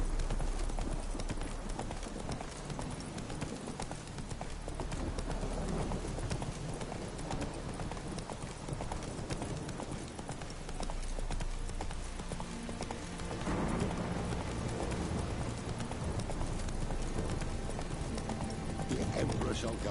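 Hooves of the horse Roach in The Witcher 3 clip-clop in a steady, continuous rhythm throughout, layered with game music and ambience, with a voice speaking briefly.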